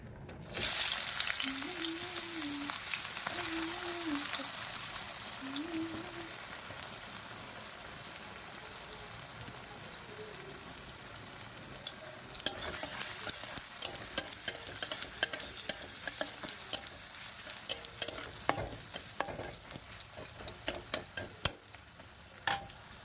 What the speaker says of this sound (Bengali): পেঁয়াজটাও লাল লাল করে ফ্রাই হয়ে গেছে প্রায়